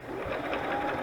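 Sewing machine stitching lace and fabric for a junk journal cover, a steady, fast continuous whirring hum running without pause at close range.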